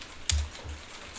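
Keys clack on a computer keyboard while a search query is typed, giving a few quick, close taps within about a second.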